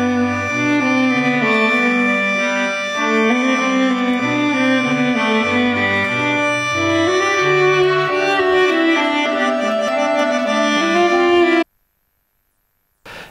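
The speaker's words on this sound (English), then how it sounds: "Sorry, so this is some Bach music for you." Bach performed by a viola and accordion duo: sustained, layered reedy chords under a singing bowed line, moving steadily for about eleven seconds before cutting abruptly to silence.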